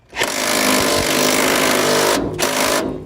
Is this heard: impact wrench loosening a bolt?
yes